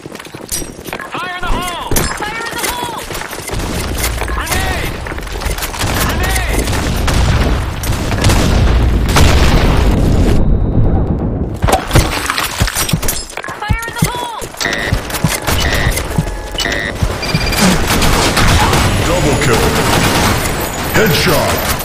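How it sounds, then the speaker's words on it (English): A loud video game firefight with rapid bursts of gunfire, booming blasts including a grenade explosion, and heavy continuous combat noise, with voices calling out over it. "Fire in the hole! Grenade!"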